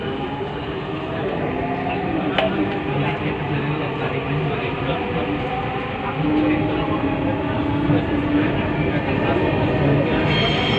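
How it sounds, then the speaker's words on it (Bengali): A metro rail train heading toward Uttara pulls away again, its steady rumble and rolling clatter building and rising slightly in level partway through, heard from inside the carriage. "আবার চলা শুরু করেছে আমাদের ট্রেন।"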